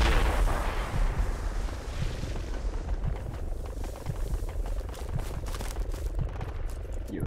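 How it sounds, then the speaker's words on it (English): A grenade explodes in bushes during Project Reality gameplay, a loud booming blast at the start that rolls off into a long rumbling tail with crackling debris. "throwing a nade in these bushes west"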